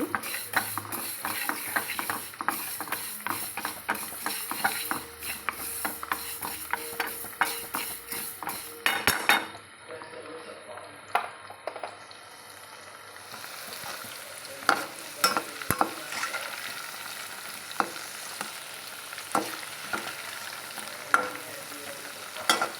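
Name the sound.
fenugreek seeds being fried in a pan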